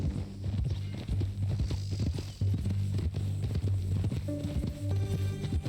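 Horse hooves clip-clop at a steady walking pace in Red Dead Redemption 2's Western ranch setting, close and clear over a low droning music bed.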